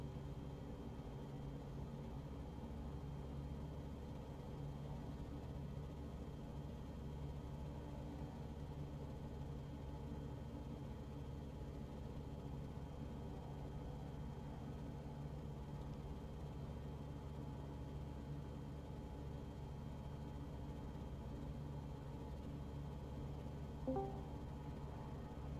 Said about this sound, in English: I'll jump back in my aeroplane and see if I can still hear you over the engine.